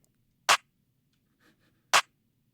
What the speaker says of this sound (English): First I started off with the clap from Lucent's hardwired multi-kit